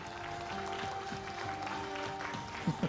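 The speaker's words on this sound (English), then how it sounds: "let's give her a round of applause" Applause from an audience at a Native American regalia fashion show, a steady wash of clapping throughout with a few sharper nearby claps near the end.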